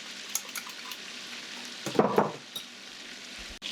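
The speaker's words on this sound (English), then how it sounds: "The butter's almost melted. I don't really have to saute this very long." Vegetables sautéing in melted butter with broth in a pan, a soft continuous sizzle with a burst of louder bubbling and stirring near the middle.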